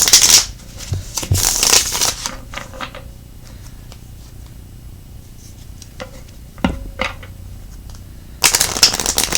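Tarot cards shuffled by hand in short bursts of riffling and flicking, with quieter handling and faint tapping between, a louder burst of shuffling near the end, close and alone without talk.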